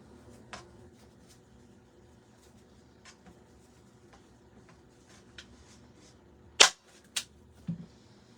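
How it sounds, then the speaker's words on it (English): A trigger-fire staple gun snaps off a few sharp, close clicks in quick succession near the end, preceded by faint scattered taps in an otherwise quiet room. "my staple gun is a trigger fire"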